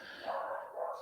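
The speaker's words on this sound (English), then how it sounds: "And that is my dog barking in the background." A small all-black dog of about 20 pounds barks in the background, a faint, muffled bark or two heard from a distance with no talking.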